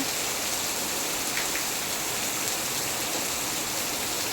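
Steady, even rain pours down, a dense continuous hiss of drops with no pauses and no voices.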